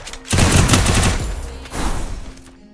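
UMP submachine gun fire in the Free Fire mobile game: a loud, rapid burst of shots, a short pause, then a second burst that tails off.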